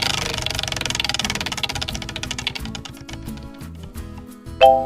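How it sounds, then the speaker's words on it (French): A game show prize wheel spins with dense rapid clicking that gradually slows, the ticks spacing out until it stops, followed by a bright ringing chime near the end. "On démarre avec un premier tour de roue."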